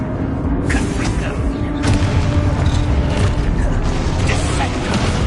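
The Confringo fire spell is cast in a Hogwarts video game, producing a loud, sustained burst of blasting, rumbling game effects over continuous background score.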